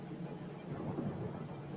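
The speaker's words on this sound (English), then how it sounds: "I just want to check out how this looks with the rain." Steady broadband rain hiss from a sim racing game, constant and moderately loud throughout, with a low rumble underneath and no voices.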